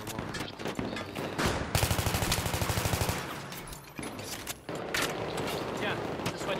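Enemy machine gun fire in a video game, a loud rapid burst of rhythmic shots lasting over a second amid other game gunfire and effects, with someone talking in French over it.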